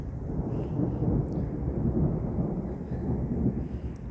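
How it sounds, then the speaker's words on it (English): Low, rumbling thunder after a lightning strike rolls continuously for several seconds during a severe thunderstorm in southeastern Pennsylvania, deep and sustained with no voices over it. "There's the thunder for that lightning strike."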